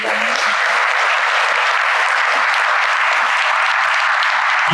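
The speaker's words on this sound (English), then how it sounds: "it's ours to give him a round of applause" A large audience at an awards luncheon claps in a dense, sustained roar of applause at close range, steady and loud from start to finish with no talk over it.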